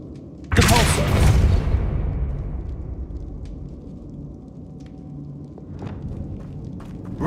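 A single loud, boomy spell blast from Hogwarts Legacy erupts, then slowly rumbles away into a quiet hum with faint scattered clicks.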